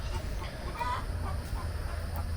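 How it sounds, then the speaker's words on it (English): A hen cackles faintly from a distance in a coop while laying an egg, over a low background rumble, a few short broken clucks spread across the moment. "If you hear that hen over there in the coop, she's laying an egg right now."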